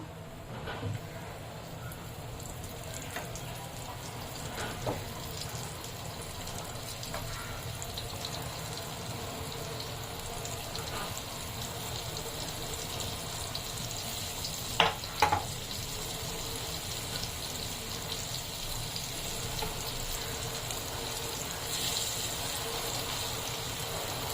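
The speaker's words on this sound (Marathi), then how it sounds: "ही जी मच्छी आहे ती आपण ह्याच्यामध्ये तेलामध्ये सोडूया" Fish fries in hot oil in a pan on low heat as a steady, soft sizzle runs throughout, with a couple of faint utensil clinks near the middle and no speech.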